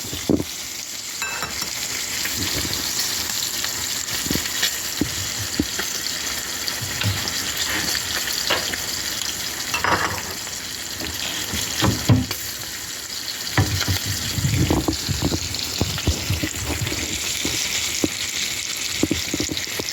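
Pieces of beef sizzle and fry hard in a hot pan with Coca-Cola, a steady broad hiss broken by scattered stirring clatters and bubbling, close and fairly loud with no talking.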